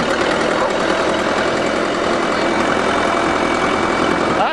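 A dump truck engine on a farm runs steadily, loud and close, with a constant low rumble and no voices.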